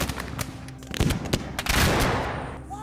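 Civil War rifle volley from an infantry company, a ragged burst of near, loud gunshots cracking almost together, followed by a rolling, echoing roar.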